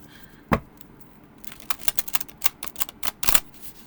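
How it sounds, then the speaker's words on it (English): Oversized vintage tarot cards being side shuffled by hand, heard as a single sharp slap followed by a rapid, uneven run of crisp papery flicks and taps, close and fairly quiet with no talking. "side shuffling it works beautifully"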